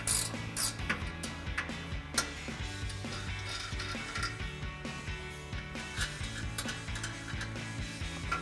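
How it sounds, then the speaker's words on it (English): A 14mm ratcheting wrench works bumper support nuts loose during a grille guard install on a Tacoma, with steady rapid clicking of the pawl in short runs, close up and fairly quiet, with no talk. "So we're gonna grab our 14mm ratcheting wrench and take them off."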